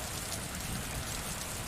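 Steady rain falls continuously, a dense even hiss of drops on surfaces with no breaks and no voices.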